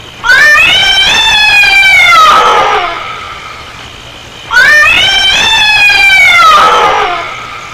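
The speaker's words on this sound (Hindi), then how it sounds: "उसी बिल्ली की आवाज है।" Two long, loud cat yowls from a Hindi horror film, each a drawn-out wavering cry that slides downward and fades, separated by a brief quiet gap.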